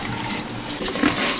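Water poured into gram flour batter for baingan and gobi pakora in a home kitchen, a soft steady trickling and splashing that runs through the whole short moment with a small clink near the end.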